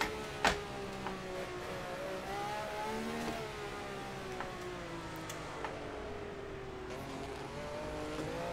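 A Ferrari 312 racing car's engine screams at high, steady revs in a racing video game at Zandvoort, its tone wavering and climbing as it over-revs, with a few faint clicks and no voices.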